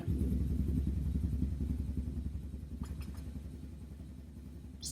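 A VR6 turbo engine cranks in a starting attempt, giving a loud, low, rhythmic churning rumble that slowly eases off without settling into a clear idle. A couple of faint clicks sound near the end.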